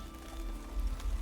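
Steady rain falls in the Witcher 3 video game, a soft continuous patter with a low rumble beneath and no talk over it.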